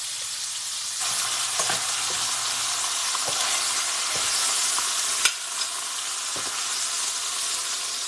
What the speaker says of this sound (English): I'm cooking them on a number 8.